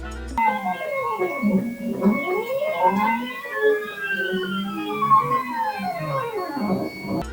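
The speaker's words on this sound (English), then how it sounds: "listen to what the CNC sounds like when it's just the motors moving" CNC machine stepper motors whine in sweeping, gliding tones that rise and fall like eerie wailing, several pitches overlapping continuously, no talking.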